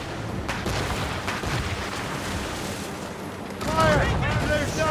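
Ship cannons boom in a naval battle in Assassin's Creed Rogue, a steady roar of overlapping blasts that swells louder near the end, with shouted crew voices throughout.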